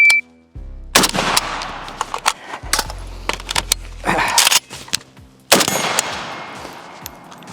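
A cheap AK rifle fires loud, sharp bursts of rapid shots after a reload, several separate strings with short gaps and echoing tails between them.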